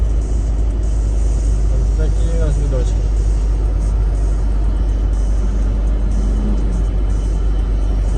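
A high-mileage car drives along with a loud, constant low engine rumble and road noise filling the cabin while a person speaks briefly over it.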